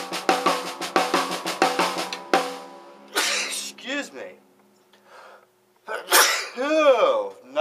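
After a run of rhythmic paradiddle strokes on a drum set, a sharp, loud sneeze bursts out, followed by a short pause and a breathy, voiced outburst.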